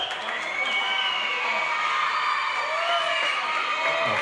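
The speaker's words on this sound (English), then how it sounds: "the crowd are going nuts here" Squash match crowd at a professional league fixture, cheering, whooping and clapping continuously at steady loudness, a dense roar of many voices filling the hall with occasional higher shouts rising above it.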